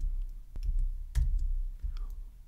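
A few scattered keystrokes tap on a computer keyboard, sparse and close, with quiet pauses between the clicks.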